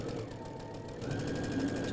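Steady sewing machine running through a quilt patchwork seam, a continuous low mechanical whirr at moderate level with no talking over it.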